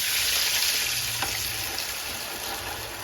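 Pork belly (liempo) frying in a pan gives off a steady, close hiss and crackle of sizzling fat that runs unbroken throughout.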